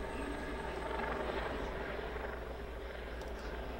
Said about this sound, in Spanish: ese helicóptero que está pasando es enemigo